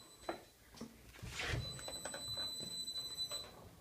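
A faint, high-pitched electronic beeping tone from surveillance equipment persists through a quiet room in a damaged building, with some soft shuffling and handling noises underneath.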